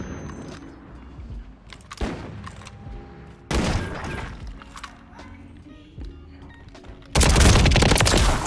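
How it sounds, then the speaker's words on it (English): Shotgun blasts in Call of Duty: Modern Warfare III Search and Destroy, several loud booming shots spaced a second or more apart, the last the heaviest, under a steady bed of game noise and occasional voice chat. "nice shotgun"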